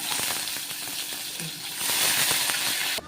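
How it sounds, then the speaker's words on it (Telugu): Onions frying in hot oil for a tomato curry, a steady, loud, close sizzle with faint crackles that swells slightly toward the end, with no voices. "ఆయిల్ పోసిందండి. ఉల్లిగడ్డలు వేసుకుందాం."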